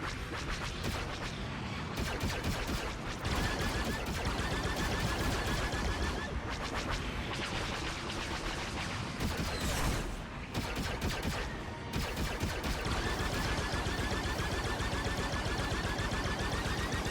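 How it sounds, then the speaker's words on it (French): Rapid turret gunfire from Star Wars Outlaws: dense bursts of repeated shots and blasts over game sound effects, loud and sustained with brief pauses. "Tourelle opérationnelle."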